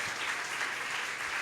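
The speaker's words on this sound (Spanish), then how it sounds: "Denle el aplauso a Jesús, fuerte aplauso." Congregation applauding during a Spanish-language church service, a steady wash of clapping that fills the whole moment without a break.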